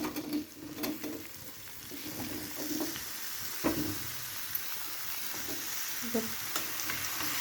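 Potatoes dropped into hot oil with turmeric in a pan crackle and sizzle steadily, with soft scraping stirs and a few louder pops, close and fairly quiet with no voices.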